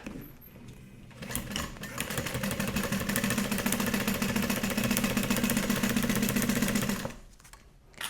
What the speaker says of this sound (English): I'm gonna baste all layers together